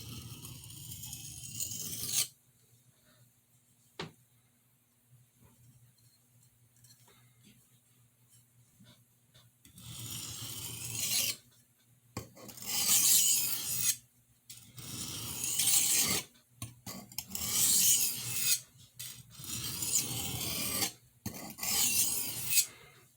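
A boning knife blade is sharpened in repeated rasping strokes, loud close scrapes coming in bursts with pauses between, after a quieter stretch near the start.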